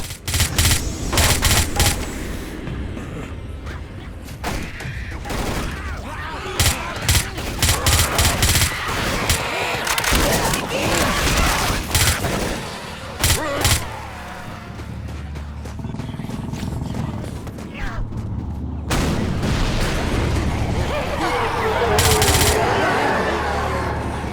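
Machine gun and submachine gun fire in a realism-mode shooter game, loud repeated bursts and rattling volleys over roughly twenty-five seconds, with brief gaps and other game sounds mixed in.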